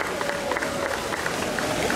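Audience applause at the Miss Vesuvio 2024 beauty pageant stop on Via Italia in Battipaglia, a dense, steady patter of clapping that holds evenly loud through the whole moment with a faint murmur of crowd beneath.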